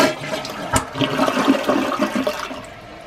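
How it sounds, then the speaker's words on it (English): A household toilet flushes close by, a loud swirling gush of water that slowly tapers off over a few seconds. "wait 5 minutes and flush your toilet"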